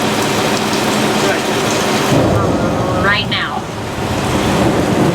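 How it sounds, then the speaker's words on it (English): Staged rain pours loudly around a Universal Studios Hollywood tram, a heavy broadband hiss that swells with a low rumble partway through, while a voice speaks over the downpour. "Look at that, it's raining. Wow, it's really coming down, too."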